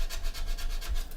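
A hand scraper rubs back and forth across the surface of a scale model to take off damaged detail, giving steady rhythmic scratchy strokes, close and continuous with no talking.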